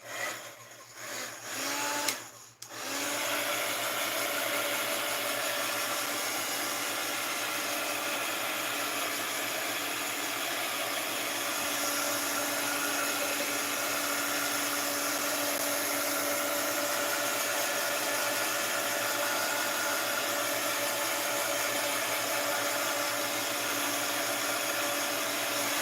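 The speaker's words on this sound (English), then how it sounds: "And let's get the heat gun out again." A heat gun is used on a mixed-media art journal page with a glossy accent. After a few seconds of handling noises it starts, then gives a loud, continuous, steady blowing drone that does not change.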